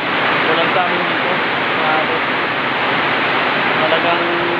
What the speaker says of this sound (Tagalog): So ngayon po ay napakalakas po ng ulan sa amin dito.